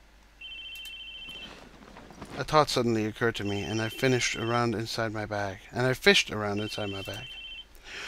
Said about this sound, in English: what had been ringing was the cell phone I'd bought just a few days ago